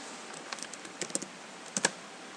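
Typing on a computer keyboard while writing a post on a website: a few close, crisp key taps, then short clusters of sharper clicks, heard alone with no speech.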